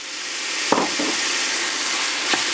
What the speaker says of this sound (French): Allez, on va pouvoir y déposer donc la viande hachée.